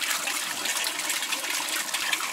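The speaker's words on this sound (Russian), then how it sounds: "вот компрессор работает, воздух подает, тянет за собой воду, насыщает кислородом и разбрызгивает на биозагрузку" Aeration compressor inside an Orange Bio Spectr autonomous septic treatment unit drives oxygenated water that sprays onto the biological filter media, giving a steady, close, loud hiss of splashing and gushing water that runs without pause and with no voices.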